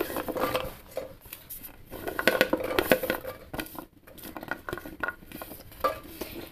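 Chopped vegetables, including beans, potato and carrot, tumble and clatter into a metal pressure cooker, with irregular close rattling and patter in bursts and brief pauses between.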